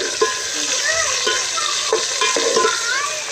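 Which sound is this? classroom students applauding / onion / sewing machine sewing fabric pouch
onion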